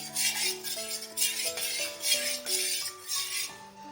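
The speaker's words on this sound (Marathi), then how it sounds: "आणि थोडीशी वेलची पावडर हे मिक्स करून घेऊया आपण" A metal spoon stirs cardamom powder into a mixture in a metal pot, scraping and clinking in a repeated rhythm with bright ringing tones at close range, no voices.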